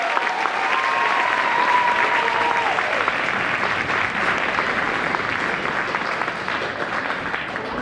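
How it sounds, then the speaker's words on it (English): Sustained, loud applause from a school concert audience after a middle school winter band performance, a thick continuous wash of clapping with a brief tonal whistle or squeal early on. "Let's give them another round of applause."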